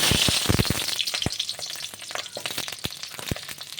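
Small onions dropped into hot oil for a spicy curry sizzle steadily up close, with sharp clicks and spatters of stirring and frying throughout.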